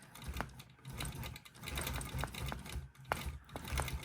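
A Gammill longarm quilting machine stitches slowly around an applique on a gnome table runner, giving soft, quick mechanical clatter and ticks in uneven bursts at low level, with brief quiet gaps.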